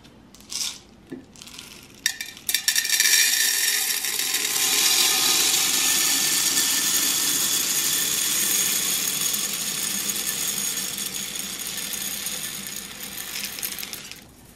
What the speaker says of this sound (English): so we're going to decant now the scent booster.